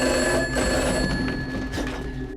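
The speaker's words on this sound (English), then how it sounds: "Upon doing so, the phone rings again." A telephone bell rings loudly and steadily for a couple of seconds, a sustained metallic trill with no voices over it.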